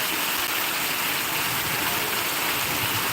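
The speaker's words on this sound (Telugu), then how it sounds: "ఫుల్ వర్షం పడుతుంది బ్రో" Heavy rain pours down in a steady, dense roar of hissing water, loud and continuous without pause, with no voices heard over it.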